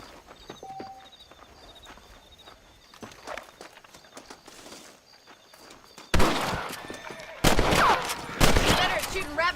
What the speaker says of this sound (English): Better at shooting rabbits than outlaws